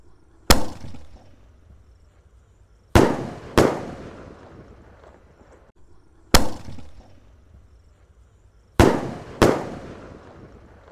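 Double-attack 1.75-inch Roman Candle fireworks fire at New Year, each shot a sharp loud bang with a fading tail, coming singly or in quick pairs several times, with no talk.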